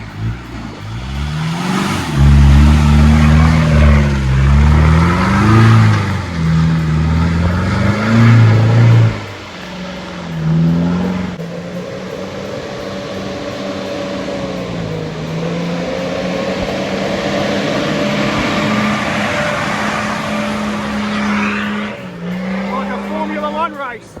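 Off-road vehicle engine revving hard and straining up a rocky hill in Bunyip State Forest, loud and sustained with rising and falling pitch, people shouting encouragement over it.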